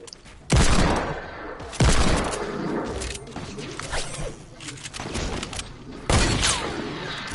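Video game gunfire rings out in sharp, loud bursts, with three heavy shots spaced across the stretch and scattered lighter pops and clatter between them.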